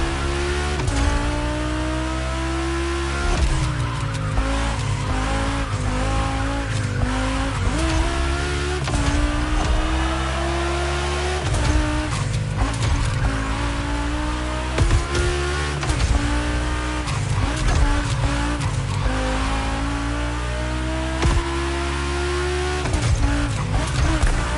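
Cars race on a track in the video game The Crew Motorfest, with loud continuous engine roars rising and falling through repeated gear shifts, brief tire squeals and several overlapping motors close by.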